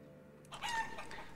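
A chicken in the video game Life is Feudal: Forest Village gives a short, faint cluck over a low, steady background hum.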